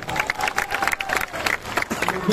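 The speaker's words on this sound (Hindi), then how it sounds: "गोटे जोरदार ताली हो वेणु भाई" Loud, steady applause from a crowd at a stage show during a cricket tournament event, with dense overlapping claps and some cheering sustained throughout.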